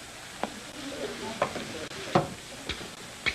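Vegetables are stir-fried in a wok for beef with rice noodles, a soft continuous sizzle broken by several sharp scraping and clattering stirs at irregular intervals, close and moderately loud.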